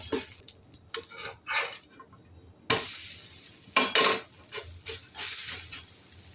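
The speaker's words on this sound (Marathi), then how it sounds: "2-3 मिनिटांनी बघूया. चिला परतून घेऊया." A sprouted moong and vegetable chila cooks in a pan, heard as uneven bursts of sizzling and scraping that start and stop, with a brief quiet stretch before the sound returns louder.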